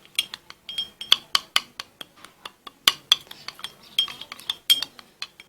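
Detergent paste being mixed quickly in a container, with a fast, uneven run of clinking and scraping taps from a utensil striking the vessel, close and fairly loud.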